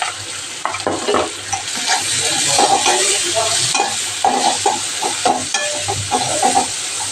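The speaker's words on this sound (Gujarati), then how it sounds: "આદુની પેસ્ટ નાખી દઈએ, મરચાં આપણા તતલી જશે" Chilies and ginger paste sizzle and crackle in hot oil while being stirred, a close, continuous frying hiss with bursts of scraping, alone.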